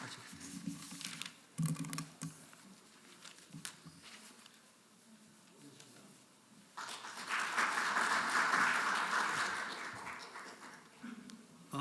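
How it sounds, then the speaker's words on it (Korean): Audience applause welcoming a keynote speaker at an intelligent transport systems conference opening in Jeju, sparse scattered claps at first, then a fuller burst of clapping midway that fades out. "박수로 맞이해 주시면 감사하겠습니다"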